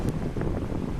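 Seaside wind buffets a phone microphone in a short, rough gust, a loud, close rumbling bluster lasting about a second.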